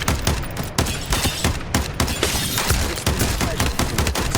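Dense, loud automatic fire from the Predator main gun in Farlight 84, a rapid, steady stream of punchy shots that barely lets up, with no voices over it.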